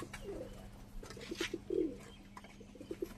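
Highflyer pigeons cooing in a loft, soft low coos repeating in short bursts across a few seconds against a steady background hum.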